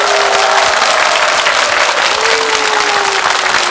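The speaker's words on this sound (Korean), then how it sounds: "박수 주세요." Studio audience applause on a Korean family game show, a loud, steady roar of clapping that holds evenly throughout, with a faint tonal line running underneath.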